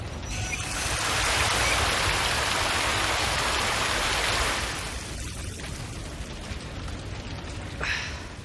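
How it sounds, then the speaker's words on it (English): Dense hissing rainfall in the video game Resident Evil 2 Remake swells loudly for several seconds, then eases to a steadier, softer patter with a brief burst near the end. "I mean, it's raining."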